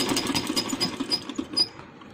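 A sewing machine stitches a folded fabric strip in a steady rapid mechanical clatter, close and fairly loud, running alone for about two seconds before slowing slightly at the end.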